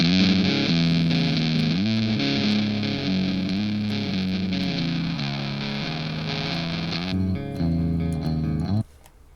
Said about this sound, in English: Another overdrive distortion pedal, basically. Here's a distortion pedal.